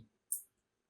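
A single soft computer mouse click sounds while the print option is selected. It is a brief, faint, crisp tick in a quiet room.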